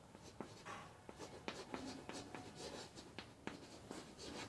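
Pen writing on paper while working a maths problem, a close, faint series of scratchy strokes and taps in an irregular rhythm.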